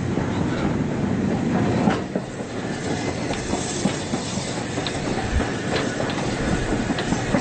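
Riding aboard a train hauled by the Oliver Cromwell steam locomotive at a gala, a steady rolling rumble with rhythmic wheel clicks over rail joints, heard from inside the carriage.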